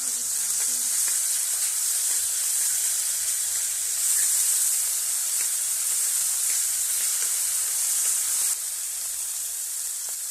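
Three to four large spoonfuls of oil in a frying pan over the heat sizzle for a garlic topping: a loud, continuous close-up frying hiss that holds steady throughout and eases slightly near the end.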